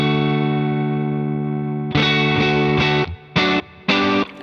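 A Line 6 Helix Princeton amp model set clean with a bright high-end boost rings out as a sustained chord for about two seconds, then a series of short, loud strummed chords with brief gaps between them.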